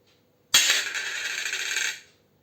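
A 5 rupee coin drops onto a hard surface with a sharp strike, then rings with a bright, sustained metallic tone for about a second and a half before fading out, close and alone.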